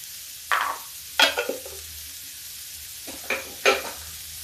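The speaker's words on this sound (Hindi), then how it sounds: "थोड़ा भूनने के बाद हम इसको निकाल लेंगे।" Sliced ridge gourd fries in a pan, with a few short bursts of sizzling and stirring scrapes separated by quiet gaps, close and moderately loud.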